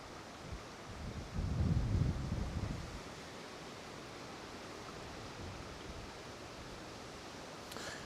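Wind blows over the River Vyrnwy on a windy afternoon of fly fishing. It is a faint, steady broadband rush, with a stronger gust buffeting in briefly near the start before settling back to a low hiss.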